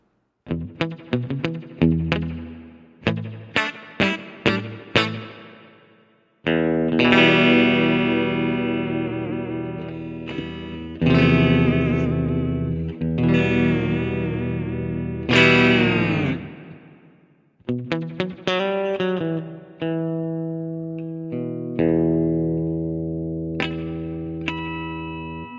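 An electric guitar played through the GigFast Mobile amp app, with distorted, chorused tone and reverb, mixing picked single notes with long ringing strummed chords, loud and close with no talking.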